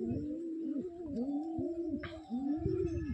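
Domestic pigeons coo in a repeated, rolling rhythm close by, several low throaty phrases following one another without a break, with no talking over them.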